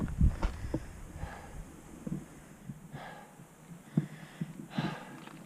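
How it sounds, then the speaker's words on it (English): A hiker climbing steeply toward Glen Pass in Kings Canyon breathes hard, with close, uneven gasps and snorting exhales repeating every second or so against quiet outdoor air. "Not ashamed to say I'm breathing hard."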